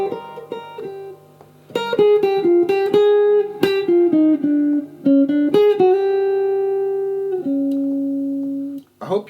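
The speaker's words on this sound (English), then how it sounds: "when I'm soloing, it can sound like this if I prepare the new key before it comes" An electric jazz guitar plays a clean, single-note solo phrase in a lesson on a jazz standard, with quick runs and sustained notes, close and clear, briefly pausing before a final held note.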